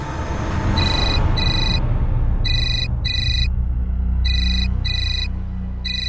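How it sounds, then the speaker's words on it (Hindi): A phone rings in short repeated double bursts, electronic and bright, over a low steady background rumble. "ऑफिस से फोन है।"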